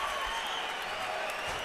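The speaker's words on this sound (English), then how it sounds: "standing ovation." Boxing arena crowd rising in a standing ovation during a Canelo Alvarez versus Shane Mosley fight, a steady wash of applause and cheering that holds evenly throughout without a break.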